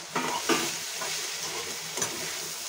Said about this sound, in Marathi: आता झाकण काढून भाजी हलवून घेऊया